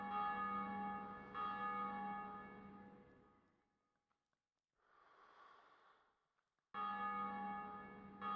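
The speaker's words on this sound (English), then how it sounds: "everyone fucking told us that when you hear bells, you're going the right fucking way" Deep tolling bells in the Blighttown area of Dark Souls Remastered, two sustained resonant rings separated by a quiet gap holding a soft breathy snort-like sound, the second ring cutting in abruptly near the end.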